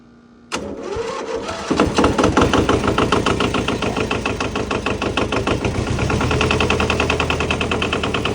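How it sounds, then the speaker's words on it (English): An old tractor engine cranks over and catches after about half a second, then settles into a loud, steady, close-up running rhythm with regular firing pulses that continue to the end. "turn it on, give yourself a little bit of throttle"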